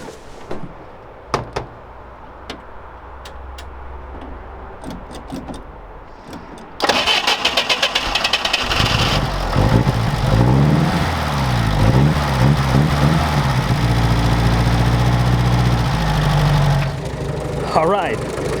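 UAZ engine cranks and catches after a few quiet clicks, then runs loud and steady with the choke on, a rough low idle continuing for about ten seconds before dropping away.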